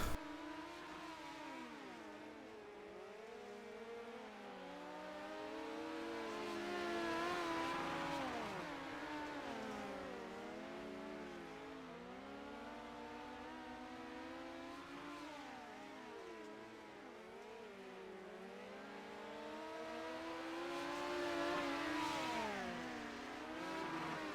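Midget race car engines in a sim racing game at Limaland, several buzzing engines rising and falling together as the cars fight for position, a continuous loud revving pack with no talk.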